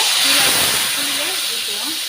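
Tamarind water hits hot mustard seeds in a pan for garlic pickle, giving a loud, continuous sizzling hiss that fades slightly, with a voice faintly speaking underneath.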